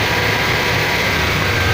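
A car engine runs steadily at idle, fitted with engine and transmission supports made from tire rubber. It gives a constant broadband rumble and hum with no change in pitch, close and fairly loud, and no voices.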